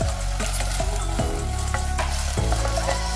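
Steady, dense sizzling of vegetables, including diced carrot, frying in a pot for lentil soup, close up, with occasional scraping knocks of a utensil stirring them.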